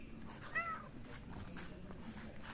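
Cat gives a single short meow outdoors near polystyrene cat houses on a slope, faint against steady background noise, with no talking over it.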